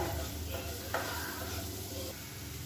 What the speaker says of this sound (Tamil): மீடியமான ஃப்ளேமில் இந்த மசாலாவோட இந்த முட்டையை வந்து நல்லா வறுத்துக்கலாம்